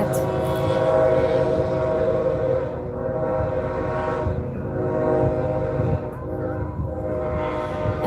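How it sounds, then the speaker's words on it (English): Passing train sounding its horn, sustained tonal horn blasts over a rumbling rail roar that swells and eases across the clip, fairly close and loud. "And that's our second train today."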